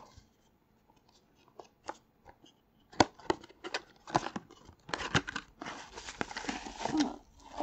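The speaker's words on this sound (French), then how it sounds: "Maintenant, il nous reste plus qu'un dernier booster à ouvrir" Crinkly foil wrapping of a Pokémon trading card booster pack is torn open and crumpled in short, close, irregular bursts, starting quiet and growing busier and louder toward the end.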